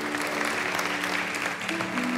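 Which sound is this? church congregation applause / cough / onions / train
church congregation applause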